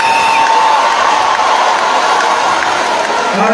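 A crowd at a concert roars and cheers in a steady, dense wash of noise that stays loud and constant, with a few shouts rising above it.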